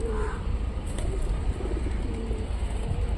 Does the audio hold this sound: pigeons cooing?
yes